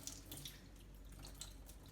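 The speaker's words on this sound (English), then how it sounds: "Putting liquid water into these ice cube trays" Liquid water poured from a tap into plastic ice cube trays, a steady close running splash with faint high drips and clinks, quiet throughout with no talking.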